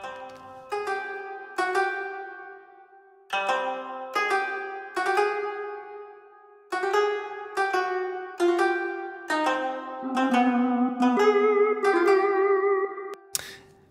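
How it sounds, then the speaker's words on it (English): Ghost voice synth lead layered with Chinese guzheng zither from Logic stock sounds, playing a spooky Halloween melody in distinct plucked phrases with sustained, breathy tones, loud and alone. "this ghost voice lead is dubbed by some Chinese Gusheng zither"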